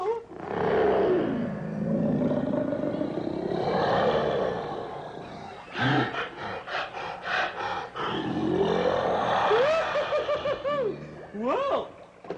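A tiger gives several deep, loud roars and snarling growls in close succession. There is a short choppy break in the middle before the roaring returns, with no voices.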